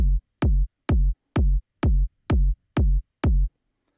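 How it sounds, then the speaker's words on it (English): Eight punchy kick drum hits, evenly spaced about every half second, each a deep booming thump with a sharp attack and quick decay, alone. "And the kick sounds like this."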